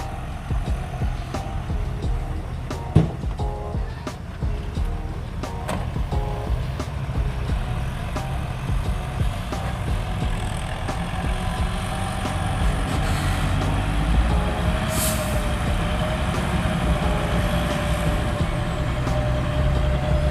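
A large bulldozer pushes wet clay soil with its blade pressed low. Its diesel engine rumbles heavily and continuously at close range, with faint clanks and a brief higher whine partway through.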